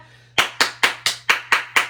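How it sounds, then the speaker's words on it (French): One person claps hands seven times in an even, quick rhythm, each clap sharp and close after a short quiet start, with a faint steady hum underneath. "J'applaudis cette robe parce qu'elle est chic"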